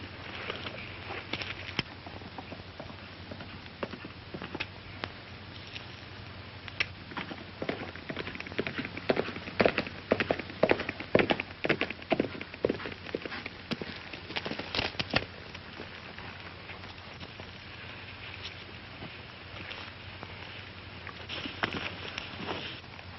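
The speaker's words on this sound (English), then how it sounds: "I hear a horse coming." Horse hooves clop in an uneven, muffled rhythm, growing busier in the middle before easing off, over a low background hiss.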